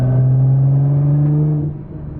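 A Nissan GT-R with turbo and straight-pipe exhaust gives a loud, steady droning engine note up close, then eases off near the end.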